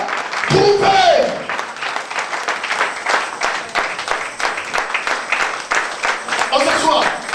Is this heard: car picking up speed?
no